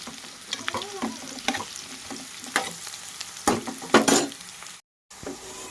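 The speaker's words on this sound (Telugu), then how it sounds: "మన కాకరకాయలు కూడా బాగా ఫ్రై అవుతూ ఉండేవి" Bitter gourd pieces fry in a pan and get stirred, a continuous close sizzle broken by scraping stirs and a few louder bursts, with a brief dropout near the end and no speech.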